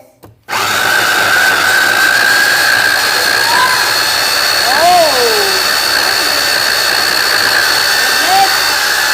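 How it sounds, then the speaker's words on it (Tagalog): A blender whirs loudly and steadily, blending an Oreo milkshake, starting abruptly after a brief quiet moment and running throughout, with a short voice exclamation and brief background sounds over the motor. "ibe blender na po natin siya"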